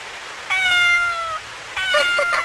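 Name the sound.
kitten meowing in the rain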